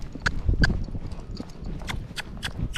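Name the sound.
Rocky Mountain Horse hooves while being ridden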